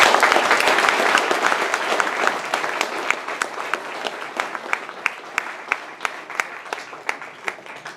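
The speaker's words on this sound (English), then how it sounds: "Can I have a round of applause for my mom, please?" A crowd at a Texas wrestling hall of fame induction breaks into loud applause that gradually thins into scattered individual claps near the end.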